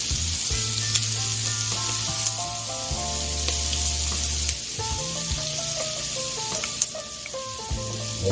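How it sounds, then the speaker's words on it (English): Onions fry in a hot pan with a loud, steady sizzle that runs unbroken throughout, with a few faint scrapes and clicks on top. "go ahead and throw these onions in"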